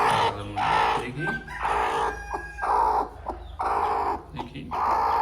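A desi chicken on a rooftop gives loud, close, repeated drawn-out calls and clucks in an even rhythm, about five bursts with short pauses between them.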